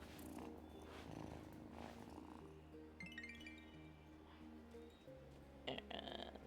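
A cat purring in a video game, a soft continuous rumbling drone that runs throughout at low volume, with a few faint game chimes above it.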